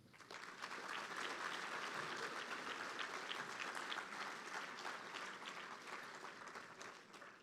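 An audience at a homecoming gala applauds the alumni association awardees with steady, full clapping that runs for about seven seconds and tapers slightly at the end, with no talk over it.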